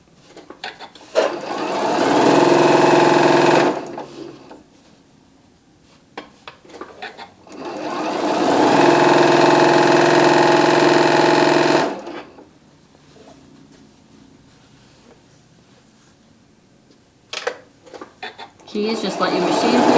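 A sewing machine stitches bag pieces in two sustained runs, each a few seconds long, with quieter gaps between them that hold light handling noise and a brief start of a third run at the end.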